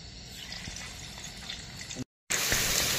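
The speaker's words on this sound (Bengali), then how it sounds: "এই যে এবার আলুগুলো ভেজে নেবো।" Half-boiled potatoes frying in oil for a vegetarian biryani make a soft, low sizzle that jumps to a louder, brighter crackle after a brief cut near the end.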